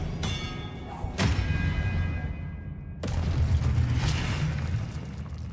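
A spell cast in the wizarding video game Hogwarts Legacy, heard as two sharp broadband bursts with thudding low impacts, about two seconds apart, over a steady rumbling game background.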